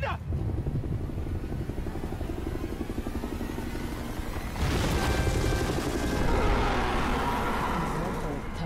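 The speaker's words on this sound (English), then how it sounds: "Flying that helicopter." A helicopter flies in a Godzilla and King Kong monster film, its chopping rotor beating under a dense rumbling mix, then surging louder as it sweeps in closer, with voices mixed into the action.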